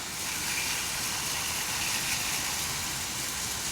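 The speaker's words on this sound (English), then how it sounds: "give it a good rinse." Steady, loud hiss of a water spray rinsing brake dust off the wheels of a Dodge Challenger Hellcat, continuous and close with no pauses.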